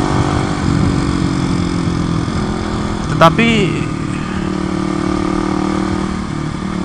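A motorcycle engine runs steadily nearby on a street, with a brief sharp mechanical whine midway. Someone talks over it.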